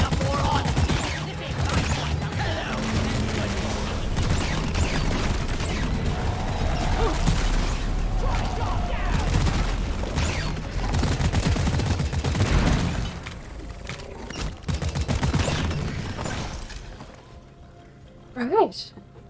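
Rapid gunfire and bursts of shooting in a video game, with cracking shots and mechanical clatter running steadily under loud, busy game noise, then thinning out near the end.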